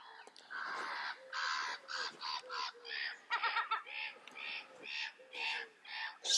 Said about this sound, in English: Seagulls are loud.